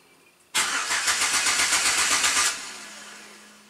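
Car engine cranked and started from a diagnostic tool test: an abrupt loud start with about two seconds of rhythmic cranking pulses, then a fading, settling engine tone.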